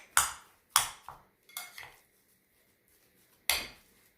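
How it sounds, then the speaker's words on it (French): Stuffing ingredients with dried oregano and garlic powder being mixed in a bowl, five distinct knocks and scrapes of a utensil against the bowl, close and crisp, with a short pause before the last one. "je mélange tous ces ingrédients ensemble"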